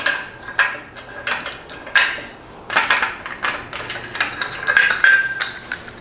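Metal parts of a Costco indoor exercise bike being loosened and taken off during assembly, giving a run of close, irregular clanks, taps and ratcheting clicks with short pauses between them.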